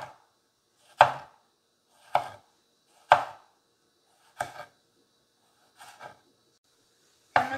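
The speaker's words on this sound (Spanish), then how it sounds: "vamos a partir nuestro tomate." Knife chopping a tomato on a cutting board: seven sharp, separate chops spaced about a second apart, close and clear, with no talking.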